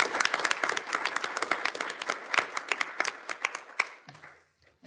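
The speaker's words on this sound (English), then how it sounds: "maybe we could please join me with an applause for all the participants and the presenters and the discussant" A conference audience at a central bank's annual session claps in a dense, lively round of applause for the session participants, tapering off into scattered claps and quiet by the end.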